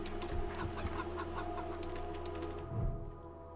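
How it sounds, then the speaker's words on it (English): A cyborg chicken implanted with metal-plated electronics clucks in the Wasteland 3 video game, a run of quick, steady clucks over a low mechanical hum, fading toward the end. "Metal-plated electronics have been implanted in this chicken's body."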